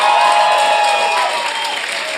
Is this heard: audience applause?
yes